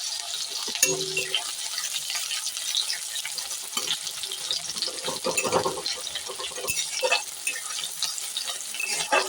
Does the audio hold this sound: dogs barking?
no